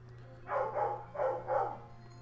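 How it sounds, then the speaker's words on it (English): A dog barks in the background, three or four faint muffled barks in a quick cluster under a steady electrical hum. "Don't mind the dog having the choir in the back."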